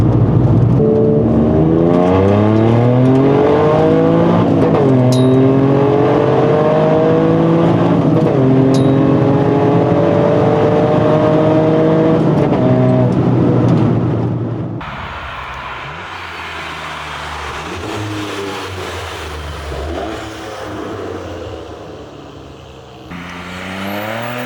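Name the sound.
Toyota GR Yaris engine revving while driving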